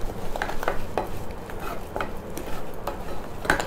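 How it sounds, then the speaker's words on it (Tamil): A spoon stirring potato aval kova with a little ghee in a hot pan, soft scraping strokes and light metallic taps at an uneven pace over a low sizzle, close and without talk. "கொஞ்சமாக நெய் விட்டுட்டு கலந்துட்டு ஆஃப் பண்ணிடுறேன்"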